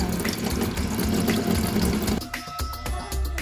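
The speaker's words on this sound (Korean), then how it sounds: "이렇게 천으로 수도꼭지를 감싸 녹지거기를 걸러보는가 하면" Tap water runs steadily from a household faucet wrapped in cloth to filter out rust in an apartment with corroded pipes, a continuous close hiss and splash that thins out partway through.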